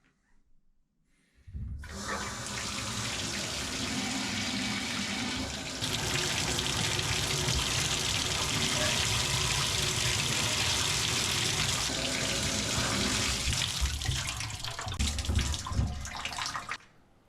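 A shower runs at full flow during a final test after a no-hot-water repair, a steady loud hiss of spraying water for about fifteen seconds that starts abruptly and briefly surges near the end.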